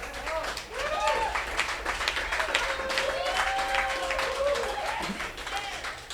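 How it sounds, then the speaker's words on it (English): A crowd claps and cheers continuously in a large room, with a voice speaking over the applause. "Okay, y'all clapping"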